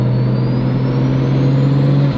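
A loud, steady engine drone from close by on a BMW N54 car with a downpipe mod, with a high turbo whine that slowly climbs in pitch as it pulls; no voices.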